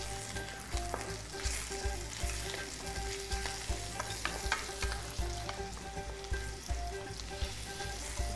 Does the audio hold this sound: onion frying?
yes